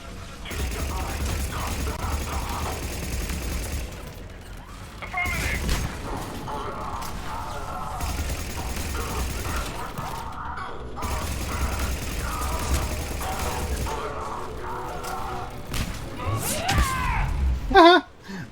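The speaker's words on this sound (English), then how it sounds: "Oh, we got turrets up, baby." Automated turrets fire in the Mass Effect 3 video game in rapid mechanical bursts, mixed with thuds and clanking. Someone talks over much of the action.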